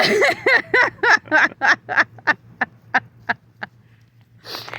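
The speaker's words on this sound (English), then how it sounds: "We got a little visitor over here. It's one of our hens." A hen in a front yard gives a quick run of about a dozen loud, close clucks, spaced evenly and fading toward the end, followed by a brief rustle.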